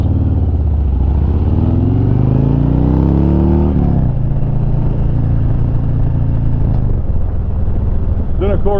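A loud Harley-Davidson motorcycle exhaust revving up with a rising pitch, then dropping to a deep, steady rumble with some mechanical clatter.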